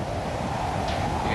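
Hurricane-force wind from a cyclone roaring outside a house, heard from indoors as a steady, dense, low rumbling rush with no pauses.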